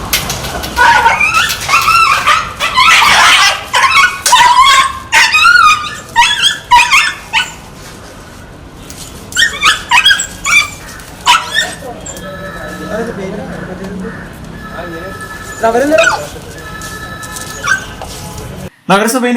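Street dogs bark, yelp and whimper in repeated loud bursts at close range during a municipal rabies vaccination drive, mixed with people talking and shouting.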